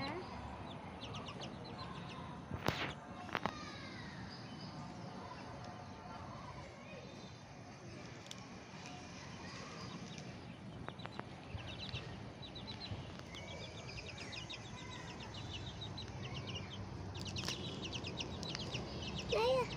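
Ayam Bangkok chickens and chicks clucking in morning sun, scattered moderate clucks and calls over a busy outdoor background while people talk now and then.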